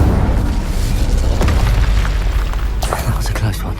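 A fire spell explodes in the video game Hogwarts Legacy, a loud, dense rumbling boom that fills the whole stretch and ends in crackling bursts, with a voice speaking briefly.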